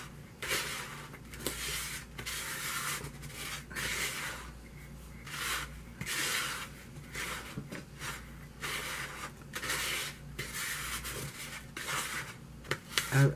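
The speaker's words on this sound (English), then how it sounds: "I'm scraping down like that because there's a little divot in the bottom of the bowl and I want to get everything." A tablespoon scrapes a fizzy tortilla-fizzy mixture around the bottom of a bowl, giving repeated soft gritty rubbing strokes in a steady rhythm, close and fairly quiet with no talk.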